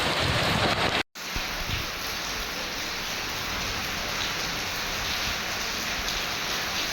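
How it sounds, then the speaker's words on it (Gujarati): Heavy, constant downpour in Amrapur, Maliya Hatina taluka, with a dense hiss of rain pounding surfaces, a brief cut near the start, then unbroken loud rainfall and gusting wind. "અમરાપુરમાં પવન સાથે ધોધમાર વરસાદ."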